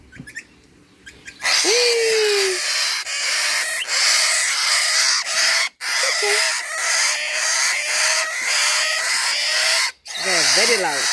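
Baby cockatiel and budgie parrots squawk loudly and almost without pause, a harsh, close chorus of screeches with brief dips and a few sharp rising and falling calls near the end.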